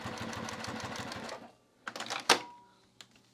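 A sewing machine running a basting stitch, a close, rapid rhythmic chatter of needle strokes for about a second and a half, then stopping, followed by a few faint clicks and handling sounds.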